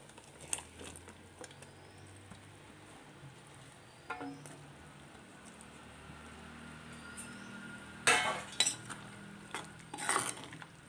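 Quiet stirring of a fish curry with chopped hog plums in a pot, with soft scraping and a few clinks of a spoon against metal over a low background hum.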